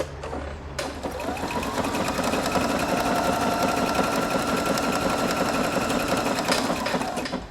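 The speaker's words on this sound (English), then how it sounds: "now I'm just going to start sewing" A Husqvarna Viking Opal 690Q sewing machine starts up and runs at a steady fast stitching rhythm, close and continuous, with a brief click at the start.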